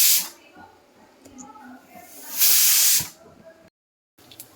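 Whole cumin, asafoetida and curry leaves dropped into hot oil for Gujarati tempered rice with corn, a sharp hissing sizzle that surges loudly for about half a second, fades, then bursts again.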